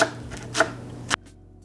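A kitchen knife chops fresh cilantro on a cutting board, three crisp close strikes spaced about half a second apart, the last one sharp and followed by quiet.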